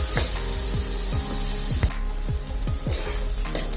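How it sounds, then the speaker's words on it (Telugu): Chopped onions frying in hot oil, a loud close continuous sizzle overlaid with regular scraping stirs every half second or so. "ఒక టూ మినిట్స్ ఆనియన్స్ వేగేట వరకు కలుపుకోవాలి"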